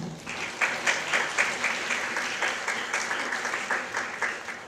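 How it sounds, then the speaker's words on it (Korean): A university competition audience applauds as a judge is introduced, a moderate round of clapping with slight rhythmic surges that continues steadily for several seconds and eases off toward the end. "큰 박수로 맞아주시기 바랍니다."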